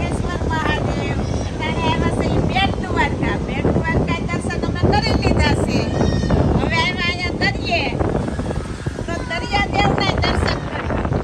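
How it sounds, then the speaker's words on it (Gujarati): Constant cool wind rushing and buffeting against the microphone at Bet Dwarka, loud and unbroken, while several voices chatter nearby. "પવન મસ્ત આવે છે."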